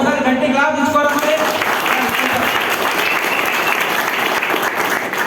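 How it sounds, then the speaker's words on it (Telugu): An audience at a business plan presentation breaks into loud, sustained applause, dense clapping filling the room after a brief spoken line at the start. "ఒకసారి గట్టి క్లాప్ తీసుకోవాలి."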